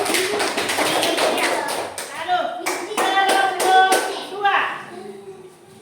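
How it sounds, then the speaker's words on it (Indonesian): Primary-school pupils in a classroom clap together in a quick, patterned rhythm of sharp taps, close and lively, while a voice speaks briefly over them. "Tepuk tangan buat kelompok 1."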